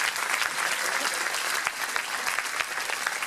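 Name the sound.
audience applause for volunteers and parents at a dojo gala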